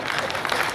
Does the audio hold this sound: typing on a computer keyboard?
no